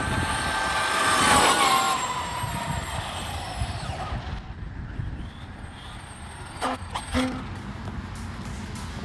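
A vehicle on a runway opens up to full throttle, its engine swelling loudly in the first seconds before fading off into the distance, followed by a few faint clicks.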